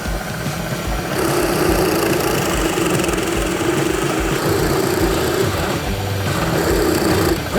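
A cheap Harbor Freight drill fitted with a Forstner bit bores into a clamped 2x4, its motor whining steadily and loudly for several seconds with a rough, grinding load that changes slightly as it works.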